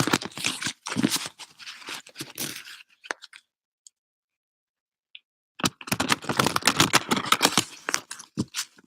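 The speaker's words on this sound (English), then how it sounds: "Let's go ahead and shuffle the cards and see what they have in store for you." Oracle cards are shuffled by hand in brisk, close, crisp riffles and slides. Two busy bursts of card noise are split by a silent gap of a couple of seconds, with no talking.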